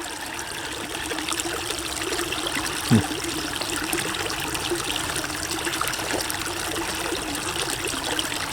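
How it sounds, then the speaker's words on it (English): A small creek streams around a stone in a constant gentle trickle and gurgle, close and even throughout, with one brief soft knock partway through. "gravity is pushing the water to make the stream run"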